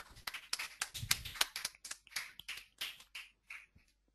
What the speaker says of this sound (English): Give a big round of applause for Pranav Sharma.